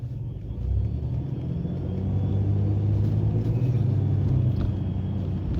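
A car with a performance cam idles at about 750 rpm, giving a steady, loud low rumble that holds evenly throughout with a slightly lumpy pulse and no talking.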